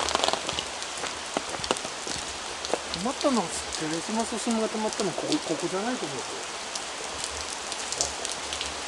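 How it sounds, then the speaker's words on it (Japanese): Heavy rain pours steadily on the grounds of a shrine in Shiga Prefecture, a dense continuous hiss. People talk over the downpour for much of the stretch. "いやー、すげえ雨"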